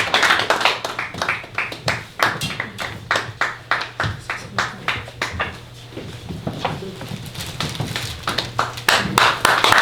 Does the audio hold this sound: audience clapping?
yes